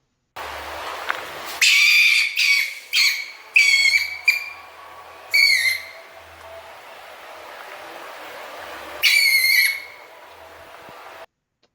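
A stone marten's alarm call: shrill, piercing squealing in short repeated bursts, several close together then a pause and a final burst, fairly near against a faint background hiss.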